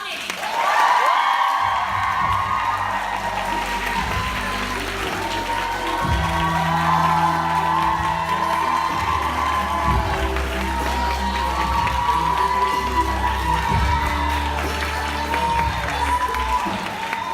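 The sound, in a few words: audience applauding and cheering a keynote speaker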